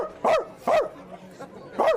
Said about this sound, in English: I want to hear his bark.